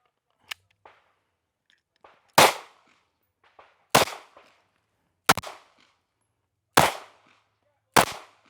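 Gunshots fired one at a time during shooting practice, five sharp loud reports spaced roughly a second and a half apart, with small clicks and handling noises between them and no talking over the shots.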